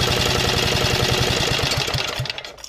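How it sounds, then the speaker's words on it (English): An engine being spun by an electric motor through a fan belt chugs in a rapid, even rhythm up close, then slows and winds down to a stop near the end. "So when I turn this switch on, this motor starts turning, and it's got a fan belt connected to the engine, so it starts turning the engine."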